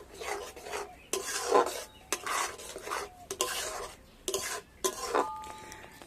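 Grated bottle gourd is mixed with salt, green chilli, onion and chopped coriander, giving close, uneven scraping and clinking strokes of a utensil against a metal bowl with no one talking.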